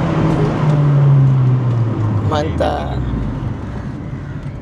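A Suzuki Swift ZC31S with an HKS turbo engine roars loudly and close, its engine note climbing and then falling away as it pulls off. Someone speaks a short word over it.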